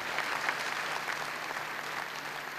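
An audience applauding a small music ensemble at a stage performance, steady dense clapping that carries evenly from start to end, full and close.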